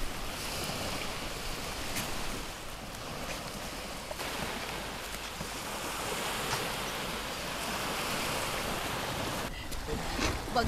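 A small boat rides out on the open sea, with steady broadband wash of waves and wind buffeting the microphone throughout, fairly loud and continuous, with a brief burst of stronger splash or wind near the end.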